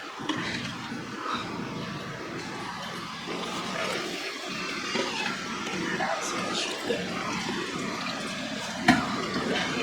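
Dirty water from a 55-gallon planted aquarium pours steadily out of the tank, a continuous close rushing flow under occasional faint voices.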